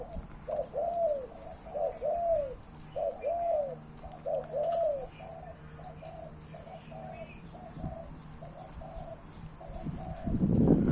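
Spotted doves cooing in a bird enclosure, a series of repeated soft, rounded coos in steady phrases close by, fading out partway through, with faint chirps and a brief rustle at the end.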